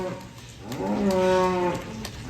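A solid dairy cow in a barn pen of heifers lets out one long, loud, rising and falling moo that stands clearly above a quiet background.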